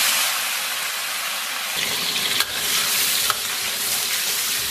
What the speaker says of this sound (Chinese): 现在咱们锅里边稍微来点油，咱把提前泡好的这个葱姜和香料下到锅中